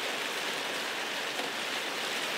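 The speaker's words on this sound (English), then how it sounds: "I can feel the rain hitting my face" Heavy rain drives steadily onto a Six Moon Designs Skyscape Trekker tent, a dense, even hiss of countless drops close by that never lets up, with no voices.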